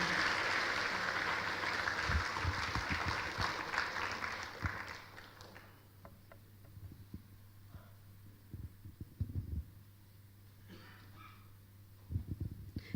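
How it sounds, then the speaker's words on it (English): Applause from an audience at a B.Tech orientation felicitation fills the first few seconds, then fades out, leaving a quiet room hum with scattered low thumps and small noises. "Everybody, please give a huge round of applause for them"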